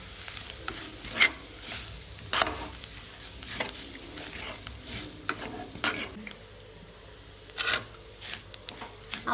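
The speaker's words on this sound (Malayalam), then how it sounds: "എന്നിട്ട് ഇത് നന്നായി ഇളക്കി കൊടുക്കുക. മസാലയുടെ പച്ചമണം മാറണ വരെയും നന്നായി ഇളക്കി കൊടുക്കണം കേട്ടോ." A spoon stirs masala sizzling in a pan for a Kerala-style squid roast, with close, irregular scraping strokes over a constant frying crackle and no talk.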